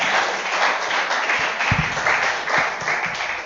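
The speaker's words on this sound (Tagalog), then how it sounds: "Palakpak muna sa Panginoon." Applause from a church congregation during a Filipino sermon, steady mid-distance clapping with a few sharper close claps.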